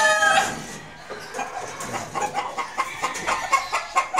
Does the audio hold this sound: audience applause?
no